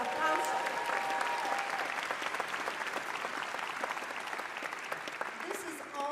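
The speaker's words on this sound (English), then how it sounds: "Applause. Applause." Sustained audience applause at a 2024 university commencement ceremony for a school of languages, literatures and cultures, dense, even clapping from a large crowd that holds steady for several seconds, heard from some distance.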